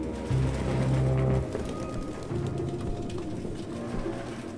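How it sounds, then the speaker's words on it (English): Pigeons coo in Detroit: Become Human, a low throaty warble that rises in a loud burst near the start and returns more softly in steady, close repeating phrases. "No human could live with all these fucking pigeons."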